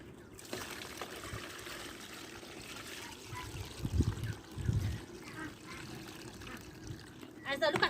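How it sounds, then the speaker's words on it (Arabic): Water trickles and pours onto a soft pillow being hand-washed with detergent, with gurgling splashes that swell around the middle and near the end as someone talks over it. "فبالتالي ايه بحط لها ميه"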